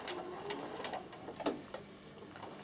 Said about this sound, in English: Stitch down the first piece of your fabric